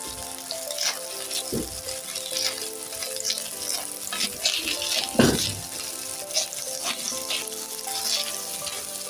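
Steady, loud sizzling of shrimp fried rice frying in a pan, with intermittent scraping and clattering as it is stirred, and no one talking.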